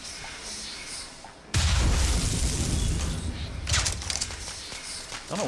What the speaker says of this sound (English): I don't know why they react to firecrackers though